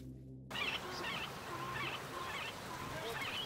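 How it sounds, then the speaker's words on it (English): Rural field in Ethiopia with honking calls from geese or similar fowl, repeated bursts near and far over steady ambient background. "The mix of birdsong, insects, distant villagers working their fields, and also some distant cattle and other farm animals is just idyllic."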